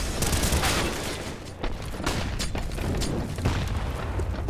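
A grenade thrown during a Counter-Strike match on the Vertigo map, heard as a loud boom amid heavy gunfire and a dense in-game mix of shots and clatter.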